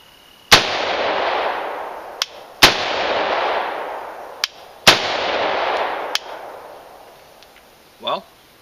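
Three loud, close gunshots from a semi-automatic rifle, each a sharp crack with a long ringing decay outdoors, fired roughly two seconds apart, with smaller clicks between and a brief faint voice at the end.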